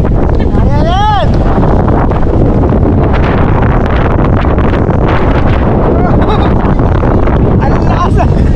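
Strong wind buffets the microphone at a seaside campsite in Bangui, Ilocos Norte, a loud continuous roar that lasts throughout, with people talking over it.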